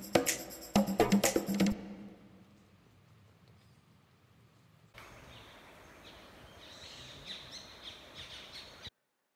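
Birds calling in a dense forest of small and big trees on a trek through Namdapha; loud bursts of chirps and calls at first, then quieter, with a busier wash of distant bird calls and chirps later on.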